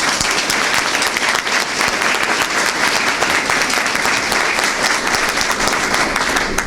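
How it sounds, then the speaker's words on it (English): Loud, dense applause from a press conference audience honoring high school students, teachers, administrators and parents, steady and sustained throughout with no talking over it. "Let's give them a round of applause."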